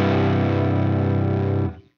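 Thick guitar chords played through a Tone Hungry Effects Fuzz Cream fuzz pedal, a dense, distorted wall of sound ringing for under two seconds before cutting off sharply, with no talking.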